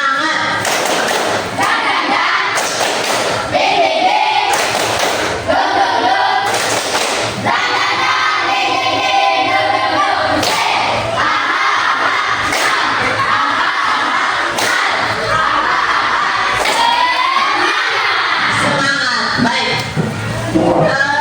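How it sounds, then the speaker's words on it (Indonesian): A group claps in a steady rhythmic pattern, sharp hand claps repeating in bursts of an Indonesian spirit-clap chant, mixed with children chanting and shouting together. "Kita tunjukkan dengan tepuk semangat. Tepuk semangat."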